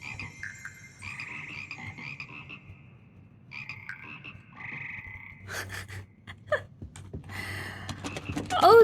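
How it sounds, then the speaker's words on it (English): Frogs croaking in a Hogwarts Legacy game level: a run of close, tonal croaks and trills in bursts over a low ambient hum, followed by scattered clicks and clattering sounds. "Frogs!"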